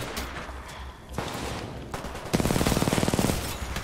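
Gunfire in the video game Titanfall 2: a few scattered shots early, then a rapid, loud burst of repeated blasts over a noisy game backdrop.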